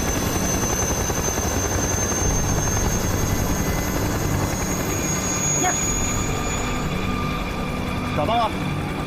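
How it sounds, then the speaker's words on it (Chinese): A helicopter approaches with a steady, loud rotor roar and turbine whine throughout, arriving at a naval military scene, with voices faintly beneath it near the end. "F 国的直升机马上就到"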